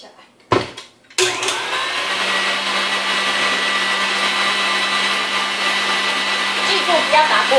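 Electric mixer whipping chocolate sponge cake batter, starting with a couple of brief bursts before settling into a steady, loud, continuous whirring drone that holds close and unbroken to the end.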